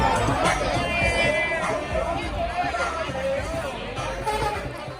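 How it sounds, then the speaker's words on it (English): Outdoor crowd lining an East Village street, people chatting over drinks; a dense, steady babble of many overlapping voices carries on without pause. "look at these crowds lining this East Village Street, sharing drinks and conversation"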